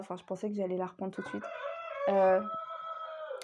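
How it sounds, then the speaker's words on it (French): A farmyard rooster crows one long, loud call that rises and then holds, close by, just after someone speaks over it at the start. "c'est le coq qui chante."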